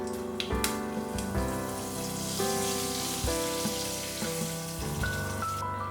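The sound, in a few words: hing and curry leaves crackling in hot oil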